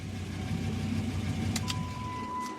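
A Dodge Ram SRT10 and a Chevrolet Silverado SS pickup idle together in a steady, low, continuous engine rumble close by, with a couple of brief higher clicks partway through.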